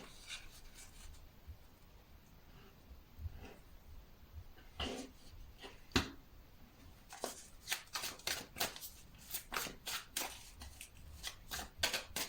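Tarot cards being shuffled by hand, quiet and close, with soft rubbing at first and then a run of crisp, rapid riffling bursts toward the end.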